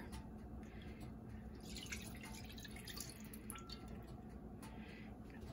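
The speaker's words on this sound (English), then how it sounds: "we're going to add our beef broth, mustard, and Worcestershire sauce to the skillet here" Beef broth pours into a skillet for Swedish meatballs, a faint continuous trickling and dripping of liquid throughout.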